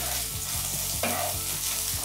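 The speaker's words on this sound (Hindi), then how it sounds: "अब इसमें मैं अपने सारे गट्टे को डाल दूंगी। और इसे बिल्कुल अच्छे से आप इस तरह से फ्राई कर ले" Gram flour dumplings (gatte) frying in hot oil in a pan, a close, constant sizzle with soft rhythmic stirring strokes throughout.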